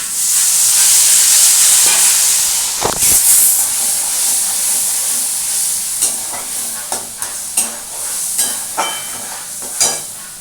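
Water splashed into a hot pan of bottle gourd and shrimp hisses into a loud burst of sizzling steam, then settles into a softer fry with a series of sharp spatula scrapes and clacks as it is stirred.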